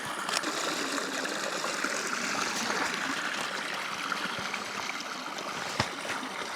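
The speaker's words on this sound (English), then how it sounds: "It's not a waterfall, but you know what I mean. It's moving water." Small stream running through a dark Swedish forest, a steady broadband babble and trickle of moving water, close and even throughout, with no voices.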